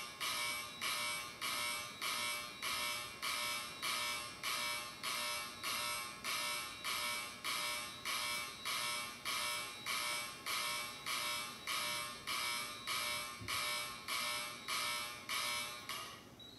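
An Edwards Adaptahorn fire alarm horn blares in a slow march time pattern, about two evenly spaced harsh buzzing pulses per second, loud and steady, with no voices.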